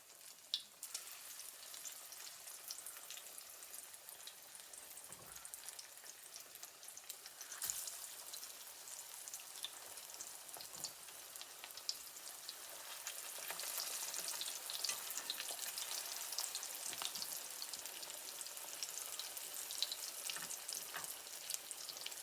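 Green tomatoes fry in hot oil in a pan, giving a soft, steady crackling sizzle that swells slightly louder partway through, with occasional small pops and clinks and no talking.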